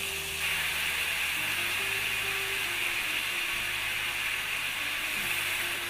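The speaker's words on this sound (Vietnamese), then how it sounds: "không mình chiên từng miếng như thế này cũng được" Chicken pieces frying in a pan of hot oil for a Vietnamese chicken ragout, giving a continuous, even sizzle and hiss that holds steady from start to finish with no talking.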